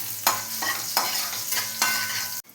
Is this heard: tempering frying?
yes